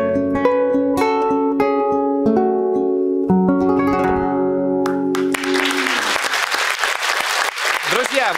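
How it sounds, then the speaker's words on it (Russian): Audience applause for a singer-songwriter on a television music program, breaking out loudly as a sustained sung note and instrumental accompaniment come to an end, then continuing as a steady, dense roar. "Ваши аплодисменты"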